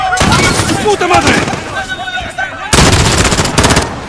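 Loud Call of Duty Modern Warfare gunfire: dense automatic bursts and sharp shots fill the whole stretch, with a harder, thicker volley near the end. Shouted voices break through the firing.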